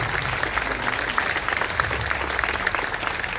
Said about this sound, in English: Give yourself a applause.